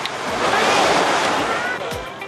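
Surf at Sebalang beach in Sinar Laut village, South Lampung, a steady wash of breaking waves with some wind rumble, close and continuous for a couple of seconds.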